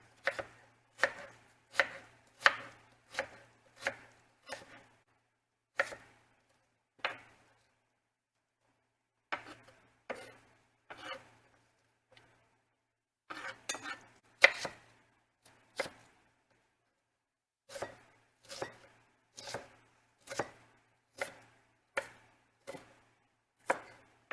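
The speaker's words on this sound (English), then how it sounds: "just chop it up pretty regular so the sizes are regular" A knife chops cruciferous vegetables for kraut on a board in steady, evenly spaced strokes, grouped in runs with short pauses between them. The chops are close and crisp, and no one speaks.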